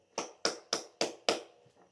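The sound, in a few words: congregation clapping for Christ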